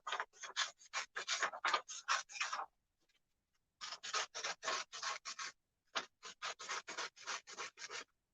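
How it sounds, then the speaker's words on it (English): Scissors snip through white paper in quick rhythmic bursts of short scratchy cuts, close and crisp, pausing briefly before resuming in another run of cuts. "I'm going to use my scissors and I'm going to try and cut out one giant round circle for the head of the snowman."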